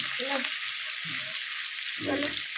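Fish frying slowly in a pan of oil in a home kitchen, giving a steady soft sizzle throughout with a few faint low knocks or stirring sounds layered over it.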